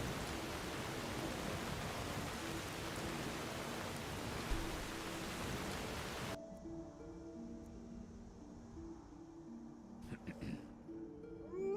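Steady, dense rain hiss in the video game The Elder Scrolls V: Skyrim fills the first half, then cuts off abruptly, leaving a quiet background with a faint low hum.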